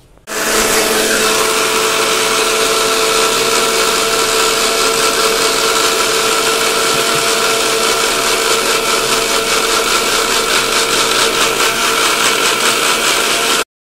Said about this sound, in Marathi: आता आपण याचे झाकण लावून घेऊया आणि मिक्सरमध्ये ग्राइंड करून घेऊया